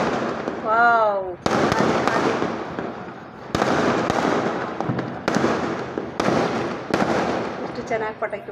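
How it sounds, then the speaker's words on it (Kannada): Firecrackers bursting during a Diwali celebration at home, a run of sharp loud cracks and bangs repeating every second or so, with a whistling rocket near the start and voices talking over the noise. "ಎಷ್ಟು ಚೆನ್ನಾಗಿ ಪಟಾಕಿ ಹೊಡಿತಾರೆ."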